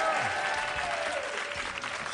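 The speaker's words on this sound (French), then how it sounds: "On peut applaudir Coralie, s'il vous plaît" An audience on a French television game show applauds, a steady, even wash of clapping from a crowd at moderate distance, with no break.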